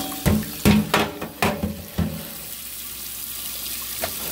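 Hot water from a kitchen tap splashes while a freeze dryer part is rinsed, with several loud, uneven bursts of spray that settle into a steadier, quieter flow.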